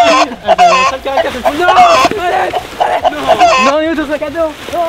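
A hen clucks and squawks during an Easter egg hunt outdoors, repeated agitated calls mixed with children and adults talking over it.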